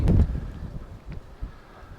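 Wind buffets the microphone at the exposed side of a small harbour where boats are moored, a loud gust at first that eases into a steady, rough rushing.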